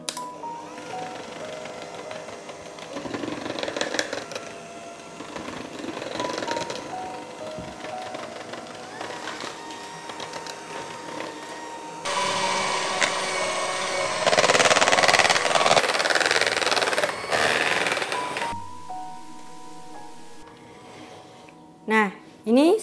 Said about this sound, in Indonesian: Kemudian kita akan kocok lagi sampai dengan dia benar-benar mengembang atau